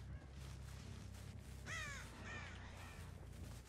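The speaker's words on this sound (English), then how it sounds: "the crows are going off left and right here" Crows caw in the video game Dead by Daylight: a burst of several loud, harsh caws near the middle, with more croaking calls trailing after, over a low ambient game drone and no talk.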